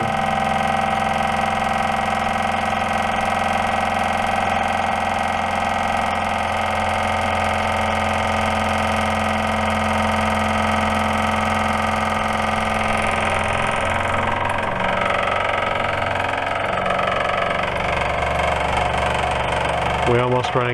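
An auxiliary fuel tank transfer pump on a P-51 Mustang replica aircraft runs with a continuous, loud mechanical hum and drone, its tone shifting partway through as the tank nears empty.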